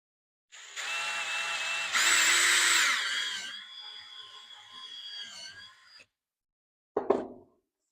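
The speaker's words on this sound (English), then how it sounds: "we'll just go ahead and finish drilling the rest of them out" A power drill bores holes through a kydex sheath in two loud bursts of whining motor, the pitch rising and then dropping away, followed by a brief pause and one short final burst.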